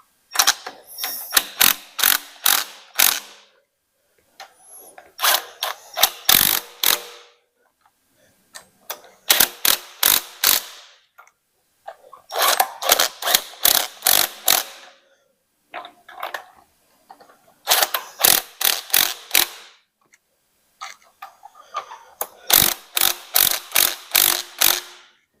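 Ratchet wrench snugging up bolts on an engine gasket in an engine bay, heard as repeated bursts of quick, crisp clicking strokes separated by short pauses, close and fairly loud with no talk.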